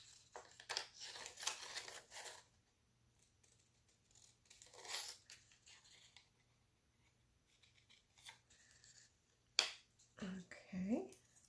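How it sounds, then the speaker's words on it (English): Scissors snipping a small strip of patterned paper for an index-card craft: a few close crisp cuts and rustles spread out with quiet gaps, and a voice near the end. "So let's cut a small strip of this one."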